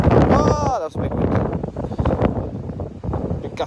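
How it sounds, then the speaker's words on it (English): A big gust of Storm Francis buffets the microphone on the Plymouth Hoe seafront, a loud roaring rush that rises and falls under people talking nearby. "Big gust then."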